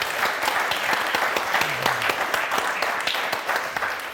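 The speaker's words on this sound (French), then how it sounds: "on va vous applaudir très fort tous les quatre" Studio audience on a French word game show applauding four contestants, a steady dense wash of clapping that holds loud and even throughout.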